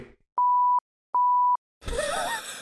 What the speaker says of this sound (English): Oh yeah, there's a built-in one. Is that a good buzzer?